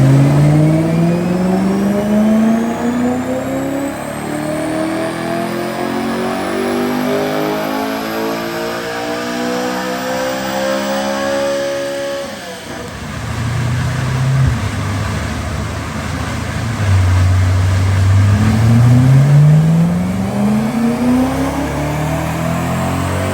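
A Ford Cosworth car engine revs hard on a rolling road dyno, rising steadily in pitch to a peak, dropping off abruptly, then climbing and falling through further loud, close revs with no voices.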